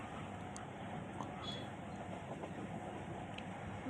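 A moving passenger train, heard from beside the door, gives a steady, quiet rumble and hiss of wheels on rails throughout, with no distinct clacks.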